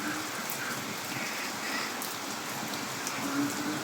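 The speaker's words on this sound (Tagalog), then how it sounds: "sobrang lakas ng ulan" Heavy, unceasing rain pours down on a flooded backyard, a steady hiss of drops drumming on surfaces close by, with faint talk beneath the downpour.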